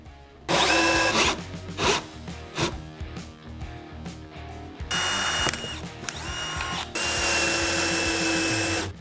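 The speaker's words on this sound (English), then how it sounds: "So now I'm going to use a step-up drill bit to drill a 3/4 inch hole." A power drill with a step drill bit cuts a 3/4 inch hole on a Harley Road Glide, running in repeated bursts, short pulses at first, then longer sustained drilling with a grinding, cutting edge, close and loud.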